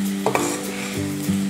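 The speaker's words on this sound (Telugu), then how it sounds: "ఇది బాగా మిక్స్ చేసుకుందాము." Gongura leaves are stirred with turmeric and salt in a pan, giving a brief, close sizzle and scraping with two short utensil knocks.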